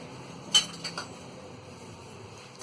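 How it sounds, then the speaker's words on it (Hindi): A metal spoon roasts dalia (broken wheat) in ghee in a pan, with a few sharp clinks and light scrapes against the pan, sparse and close amid quiet. "ये दलिया डालेंगे और इसे हम अच्छी तरह भून लेंगे"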